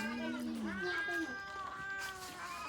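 A cat meows in several drawn-out, rising and falling calls, close and fairly loud, while a person talks over part of it in a home setting.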